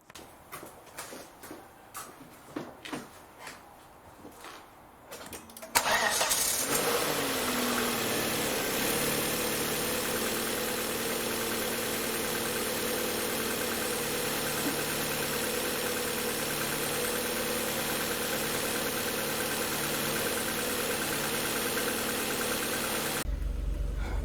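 A Volvo V40, with a faulty camshaft reset valve and ECM-5D fault code, cranks and starts after a few seconds of faint clicks and handling noise, then settles into a steady, close, even idle that runs uninterrupted to the end.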